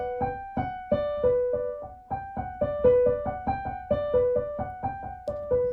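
Piano plays a short repeating arpeggiated pattern, the same low note anchoring each cycle, steady and moderately loud with no voices.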